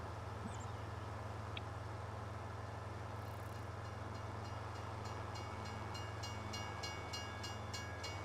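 A train rolling past in a farming video game, a steady rumbling drone with rhythmic clacking building toward the end, heard continuously under a constant low background hum.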